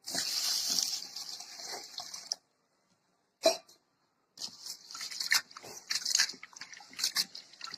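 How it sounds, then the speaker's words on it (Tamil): Water sloshes and splashes as rice and lentils are swirled and rinsed in a bowl, with a pause in the middle and a short clatter. "தண்ணி ஊற்றி ரெண்டு தடவை கழுவிக்கலாம்"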